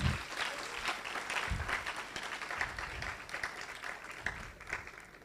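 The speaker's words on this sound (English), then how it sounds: "can you please give him another round of applause?" A crowd applauds with sustained clapping at a steady level at a medical school pinning ceremony, fading slightly toward the end.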